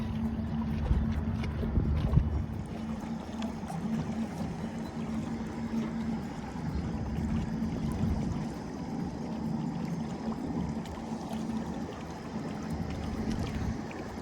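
An inflatable boat's outboard motor drones steadily with a low even tone, mixed with constant rushing water as the small boat moves along.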